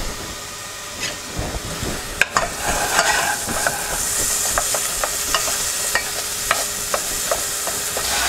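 Onions sautéing in a pan, a steady sizzle with repeated light stirring strokes and a few sharper scrapes, close and alone without talk.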